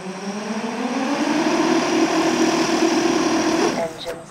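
Motors of a heavy 4,300-gram Shendrones Thicc drone, armed on the ground, give a steady high whine with a wavering oscillation that holds for about three and a half seconds before cutting off.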